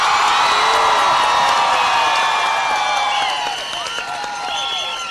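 A large crowd at a political assembly in El Paraíso, Caracas, shouts, whoops and cheers loudly and steadily, a dense roar of many voices that eases slightly toward the end.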